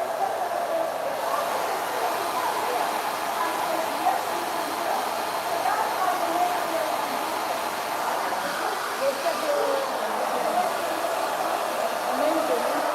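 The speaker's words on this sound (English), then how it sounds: "take the diffuser like that and just put it here and go up" A hair dryer fitted with a diffuser blows steadily while drying curly hair, a constant loud whooshing rush that runs unbroken through the whole stretch with a voice talking over it.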